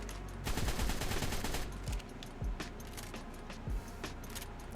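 Assault rifle with an extended 60-round magazine firing in the game ARK: Survival Evolved, a rapid burst of automatic gunfire followed by several shorter bursts and single heavy shots, close and loud.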